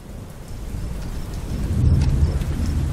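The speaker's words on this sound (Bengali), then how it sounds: "বাইরে বৃষ্টি হচ্ছে অঝোর ধারায় যেন আজই মহাপ্রলয়ের নির্ঘণ্ট উপস্থিত বিদ্যুৎ চমকের ভোঁতা শব্দে ছোট্ট বদ্ধ ঘর কেঁপে কেঁপে উঠছে" Heavy rain pours down hard while a deep roll of thunder builds and rumbles, loud and close, in a horror audio drama.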